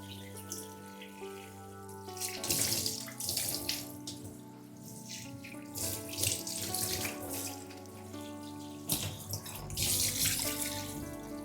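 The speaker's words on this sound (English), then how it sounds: "So first you just want to run the water through your hair" Tap water runs steadily over a person's hair while rinsing out a clay wash, a continuous close-up gush with shifting splashes and no voices.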